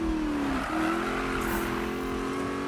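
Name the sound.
car drifting in Need for Speed video game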